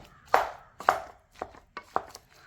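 Boiled cassava (kappa) being mashed in a bowl, five separate soft, thudding presses at an uneven pace, close and fairly loud against a quiet background.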